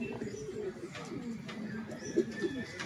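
A pigeon in a training loft coos softly in low, throaty bursts near the microphone, under a muffled background with faint voice-like murmur.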